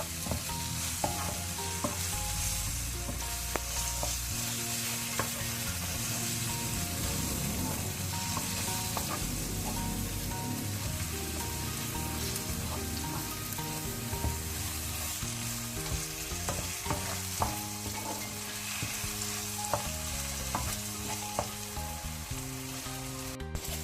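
Cranberry chutney mixture with mustard and fenugreek powder stirred in a pan, a steady loud sizzle and bubbling with continual scraping and clinks of the spoon throughout.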